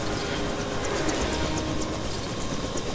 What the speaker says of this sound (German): Es kommt noch ein Hubschrauber.